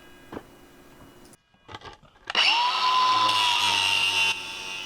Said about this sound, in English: Just using the grinder to cut out the obvious screws or nails that are sticking up